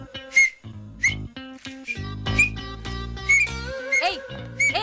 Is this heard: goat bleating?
no